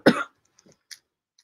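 A single short, sharp cough up close, followed by faint small rustles and clicks in otherwise quiet surroundings.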